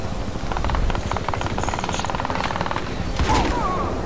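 Gunfire in the PC shooter Crysis 2: a steady stream of rapid automatic shots throughout, with a heavier burst near the end.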